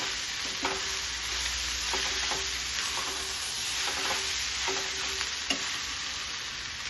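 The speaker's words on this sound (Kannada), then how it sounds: "ಉದ್ದಿಟ್ಕೊಂಡಿರುವಂಥ ಬೆಂಡೆಕಾಯಿ ಸೇರಿಸ್ಕೊತಾ ಇದ್ದೀನಿ. ಇದೆಲ್ಲ ಒಂದ್ಸಲ ಮಿಕ್ಸ್ ಮಾಡ್ಕೋಬೇಕು." Okra stir-fries in a pan with fried onions and tomato. A constant near sizzle runs throughout, and soft spatula scrapes and taps are spaced irregularly through it.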